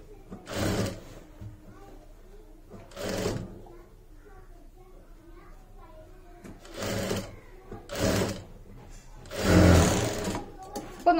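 Sewing machine stitching a churidar sleeve, running in four separate bursts of a few seconds each with quiet gaps between, fairly close and steady.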